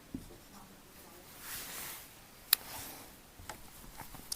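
Faint pen or chalk strokes writing answers during a Hindi reasoning lesson on ranking, soft scratching with a sharp tap midway and a few light clicks near the end, quiet and close.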